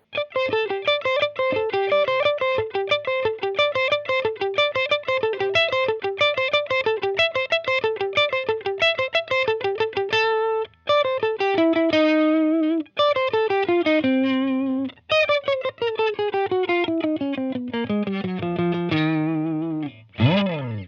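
A distorted electric guitar picks the fast riff from a song at a slowed, moderate pace, with brief pauses and slides between phrases, loud and close.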